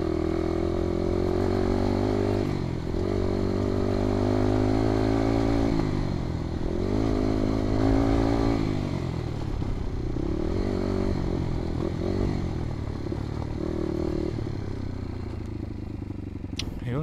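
A motorcycle engine revs repeatedly in rising and falling waves to push fuel into the carburetor. It runs loud and close with a steady rough idle, and a voice speaks briefly.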